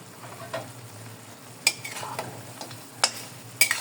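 Onion stirred in a pan while making chicken sotanghon soup, with a soft sizzle under occasional sharp utensil clinks and scrapes against the pan, no talking.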